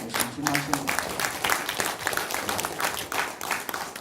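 Audience applause at an indoor regional forum in Jeollanam-do on using microbes in livestock farming: a steady broadband patter of many hands clapping at moderate loudness, lasting several seconds, with a little talk mixed in.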